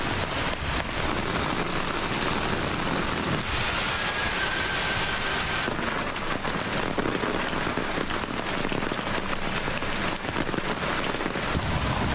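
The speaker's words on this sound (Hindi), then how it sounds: "मूसलाधार बारिश ने लाहौर की सड़कें तालाब बना दी।" Torrential rain falls on Lahore, where the streets are flooding. It makes a dense, continuous hiss and patter that stays steady and loud throughout, with no voices.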